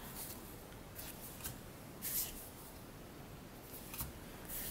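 Glossy sheets of planner stickers being flipped by hand, giving a handful of soft, faint paper rustles and flicks spaced a second or two apart over a quiet room hush.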